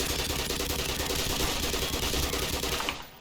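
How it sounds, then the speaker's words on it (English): Sustained, dense automatic gunfire in the video game Black Mesa, a loud continuous barrage with no pauses that cuts off and fades near the end. "Well, we're going guns blazing then."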